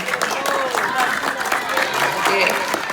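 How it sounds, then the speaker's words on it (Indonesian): Classroom children clapping for a classmate during a health talk, a lively round of claps mixed with excited voices and chatter. "Tepuk tangan dong buat temennya."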